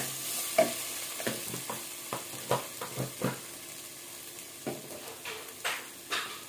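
Garlic paste and garam masala frying in oil in a pan for a vegetable kurma, with steady soft sizzling and several sharp stirring scrapes and knocks spread through, no voices.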